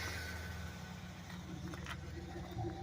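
A 1990 Oldsmobile Toronado Trofeo runs on old fuel and compromised oil, its engine idling softly with a low steady hum and a faint rough edge, some background noise mixed in.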